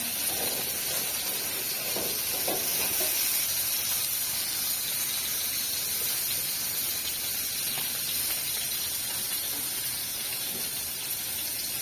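Fish fries in a pan in a village kitchen, with a continuous sputtering hiss and sizzle of hot oil heard close and fairly even throughout.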